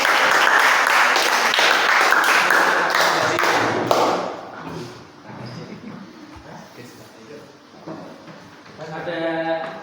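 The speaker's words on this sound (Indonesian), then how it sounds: "Beri tepuk tangan" Classroom students clap together for a group of classmates, a loud burst of hand claps for about four seconds that fades into quieter room noise, taps and thuds, with a faint voice near the end.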